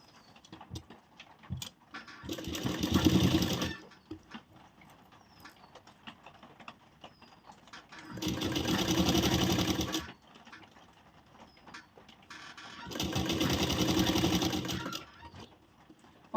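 Sewing machine stitching the lining of a princess-cut blouse, three loud bursts of rapid mechanical whirring, each about two seconds long, separated by quieter pauses with faint handling noises.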